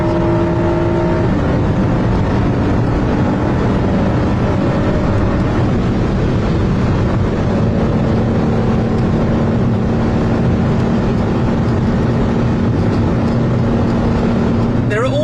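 A small twin-turbocharged car engine driven hard on a race track, a steady loud drone with a sustained low tone and little change in pitch throughout.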